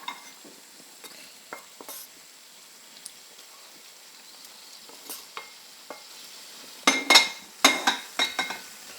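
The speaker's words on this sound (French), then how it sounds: "On laisse encore mijoter 5 minutes pour que tout s'imprègne." Celery tagliatelle with cider and bacon simmers in a pan, heard as a soft, low bubbling hiss. Scattered light scrapes and taps of a utensil build to a cluster of louder stirring clatters near the end.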